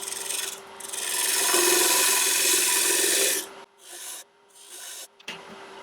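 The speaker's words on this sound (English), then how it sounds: "So just going to use the tin parting tool just to go in about 1/4 inch." Parting tool cutting into wood spinning on a lathe during a woodturning project, a loud steady rasping scrape lasting about three seconds, followed by a few shorter cuts separated by pauses.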